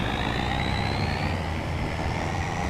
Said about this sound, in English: I must say this truck does sound pretty cool.